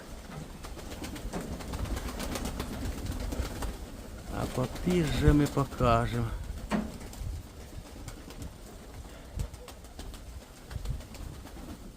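Pigeons, including young birds, cooing in a loft, soft throaty calls rising in the middle, with someone talking over the background noise.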